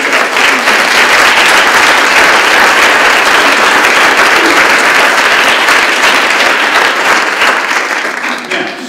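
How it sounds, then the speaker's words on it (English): Applause from a large audience at a regional education service center staff forum in March 2016, a steady, dense wash of clapping that holds at full strength for about nine seconds before easing slightly at the end. "And so huge applause and high fives for all of us."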